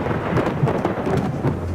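Rain sound effect in a Hindi horror story: a dense, loud, steady downpour with a low rumbling undertone, continuous and with no speech.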